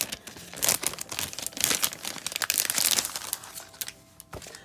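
A 6x6 double-sided paper pad handled close up, with crisp, irregular crinkling and rustling of sturdy sheets in quick bursts, no voices.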